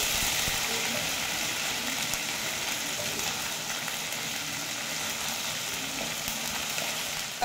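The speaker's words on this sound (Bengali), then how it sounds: "মশলাটা একটু ভাজা ভাজা করে নিই।" Ginger-cumin paste and dried chili frying in a pan give off a soft, continuous sizzle, fairly faint and even, with light stirring scrapes now and then.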